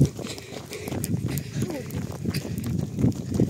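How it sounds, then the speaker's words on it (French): A group of cows walks up on a farm, hooves clopping irregularly on hard ground at close range, mixed with shuffling and movement while people talk over it. "Regarde, elles sont tous là, les vaches. Regarde, elles arrivent."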